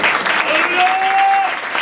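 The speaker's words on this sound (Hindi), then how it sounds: "अब अपने लिए ताली बजाएं।" Church congregation at a Hindi-Urdu sermon applauds for themselves, a loud continuous wash of many people clapping close by, with a faint sustained tone running underneath.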